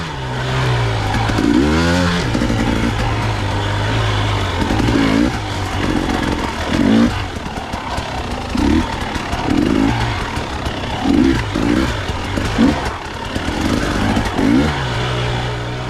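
A dirt bike engine climbs a hill at the 2021 SEER Bootlegger Extreme hard enduro, running a Mitas C19 front tire on a Tubliss setup at low pressure. The engine revs loud and close, surging and dropping repeatedly with throttle blips throughout.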